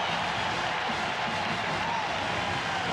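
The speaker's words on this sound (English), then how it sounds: "And listen to this crowd." A college football stadium crowd at an Alabama versus Ole Miss game keeps up a constant, distant roar, a broad wash of massed voices and cheering with no single caller standing out.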